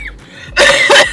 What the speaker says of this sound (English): I still got my cough.